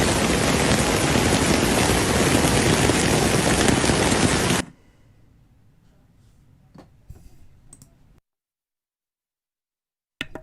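Heavy rain during flash flooding in Connecticut pours down as a loud, dense hiss for about four and a half seconds, then cuts off abruptly to faint scattered noise and silence.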